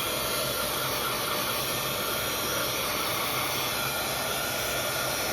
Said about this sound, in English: Let's go ahead and heat emboss from the back